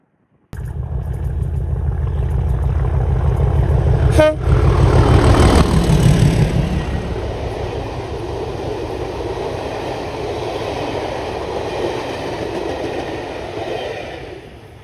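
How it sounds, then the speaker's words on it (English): The Jacobite train, hauled by a diesel rather than steam, rumbles through a remote station with a sharp horn blast early on, then a long, steady drone of rolling wagons that slowly fades. "in just a moment we're going to get the Jacobite passing"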